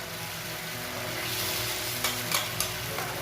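Mongolian beef sauce of soy sauce and brown sugar simmering in a pan, a soft steady bubbling sizzle with a few light scraping stirs toward the end.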